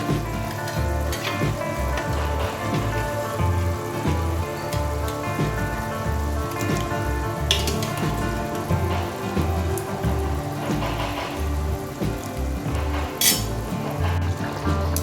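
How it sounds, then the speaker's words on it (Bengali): Badshahi paneer gravy simmers in a pan with paneer pieces added, giving a close, continuous bubbling sizzle with soft clinks, steady throughout and without talk. "এবার যখন ঝোলটা ফুটছে আমি আস্তে আস্তে পনিরগুলো এর মধ্যে দিয়ে দেবো"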